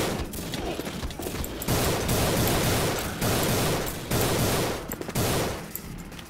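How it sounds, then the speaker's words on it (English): Heavy machine gun fire in the video game Codename CURE, a dense, loud, continuous rattle of rapid shots that pauses briefly and resumes in several sustained bursts. "Heavy machine gun."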